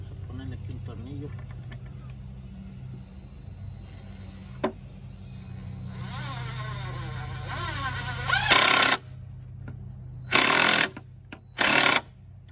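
A power drill drives a screw into a small wooden board while building a chicken nest box, with several loud, short bursts of whirring near the end after quieter background rumble and speech.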